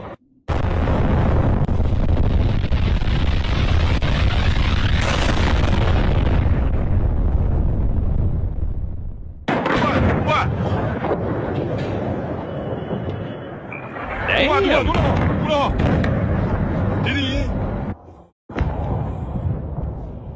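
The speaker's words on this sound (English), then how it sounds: "you're going to see a bunch of explosions here, and then one ginormous one at the end" A fireworks cake fires a long, loud, continuous barrage of close explosions and bursts, then after a brief gap a second run builds to a much bigger, heavier blast near the end, with no talking.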